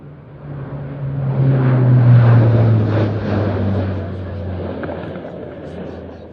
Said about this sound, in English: This is the stretched version of the C-130J, the most modern and most capable variant of the Hercules family.